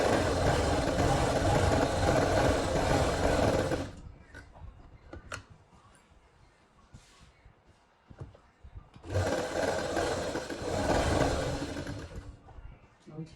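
A sewing machine stitches the side seam of a kameez in two sustained bursts of steady, dense whirring, separated by a quieter gap with small clicks and handling noises.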